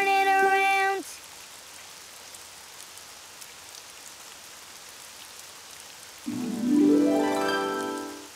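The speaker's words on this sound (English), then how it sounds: "It's raining outside." Steady rain falls outside as a continuous hiss throughout, with a musical tone at the start and another rising near the end.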